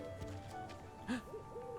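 A faint, soft hooting bird call from the video game Aethermancer sounds once, brief and owl-like, over a quiet steady background.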